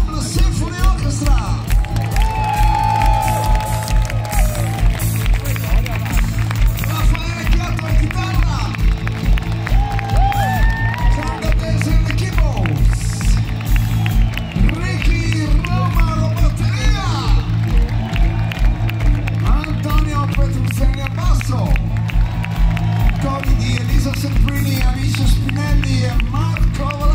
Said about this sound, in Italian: nostro grandissimo applauso alla Ensemble Symphony Orchestra.